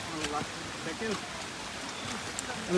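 Rain falls on Chandranath hill, a steady soft hiss of drops all around, with a few faint taps and distant voices mixed in along a busy hill path.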